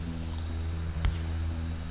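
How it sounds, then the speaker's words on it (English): A bass with a chorus effect holds a thick, steady low tone that hums quietly and evenly. A brief soft bump comes midway through, with no voice. "They put a chorus on their bass to make it sound thicker."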